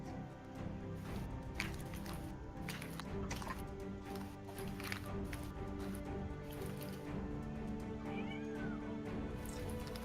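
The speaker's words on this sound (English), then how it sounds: "Seriously, that cat's still meowing." A cat meows repeatedly over a humming, tonal background, several drawn-out cries rising and falling, some sounding strained like caterwauling, with faint wet squishing noises mixed in.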